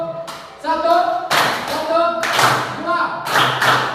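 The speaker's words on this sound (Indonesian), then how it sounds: "tepuk tangan untuk kelompok 1" A class of students claps for a group in a classroom, with several bursts of loud, close, dense hand clapping; a voice speaks between the bursts.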